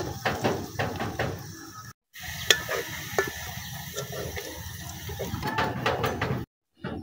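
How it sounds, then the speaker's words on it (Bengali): Sliced onions fry in hot oil toward crispy birista, a continuous crackling sizzle with scraping stirs and a few sharp clinks of a spoon against the pan, close up, with two brief silent breaks. "আমি পেঁয়াজগুলো বেরেস্তা করে নিব"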